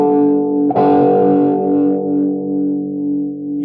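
A high-gain distorted electric guitar chord with EMG pickups is played through an EVH 5150III amp. It is struck once, loud and close, then rings out and slowly decays with a thick, buzzing sustain.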